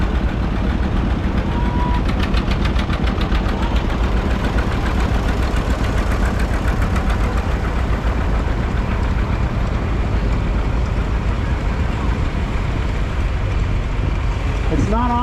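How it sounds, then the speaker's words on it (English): A 1957 John Deere 620 tractor runs in a classic tractor parade, its engine loud and close with a steady, throbbing low rumble throughout, while a voice talks over it now and then. "up next we got Dave New driving a 1957 John Deere 620."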